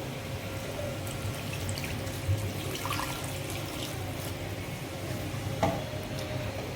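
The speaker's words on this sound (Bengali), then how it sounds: "আমি এখন জল দিয়ে দেবো হাফ লিটার" Half a litre of water poured into a cooking pot of bottle gourd and sweet potato pulusu, a steady close watery rush that runs for several seconds with a couple of brief clunks.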